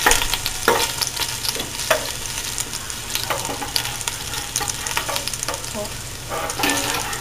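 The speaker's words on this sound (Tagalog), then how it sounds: "Palulutuin po natin ng konti ang ating bawang upang para lumabas ang kanyang lasa." Garlic sizzles steadily in a hot pan as the first step of chicken adobo, a dense continuous frying hiss with occasional stirring scrapes and pops.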